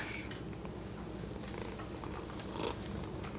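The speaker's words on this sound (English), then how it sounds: "Oh, and here comes the cat." A cat purring close by, a steady, soft, rumbling purr that carries on throughout.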